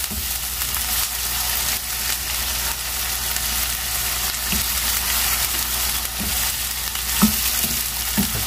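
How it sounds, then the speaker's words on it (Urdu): Chickpea stock stirred and sautéed with ginger paste in a pan for a white chickpea curry, giving a steady sizzle with a few soft scraping stir sounds, close and with no talk. "دو چمچے میں نے یخنی کے ڈال دیے ہیں یہ ہم اس کو اچھے سے بھون کے پھر اپنے مسالے میں ڈالیں گے"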